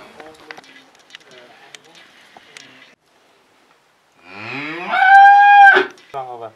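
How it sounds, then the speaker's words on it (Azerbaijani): A calf tethered in a village barn in Baş Kəldək, Şəki, gives one loud, close, drawn-out moo after a stretch of quiet talking by a person nearby. "gördüyünüz kimi dana, danalar yəni bağlanılıb bura"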